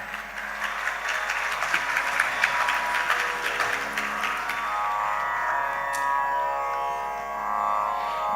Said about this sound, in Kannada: ಕಲಾವಿದೆ ಮತ್ತು ಹಿಮ್ಮೇಳ ತಂಡಕ್ಕೆ ಜೋರಾದ ಚಪ್ಪಾಳೆಗಳು.